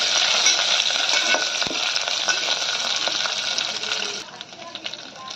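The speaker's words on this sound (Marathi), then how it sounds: "आता यावर घालूया हिंग आणि हळद। हे थोडंसं परतून घ्या।" Asafoetida and turmeric sauté in a pan for kadhi, a dense, bright sizzle filling the clip and easing off near the end, with faint stirring noises.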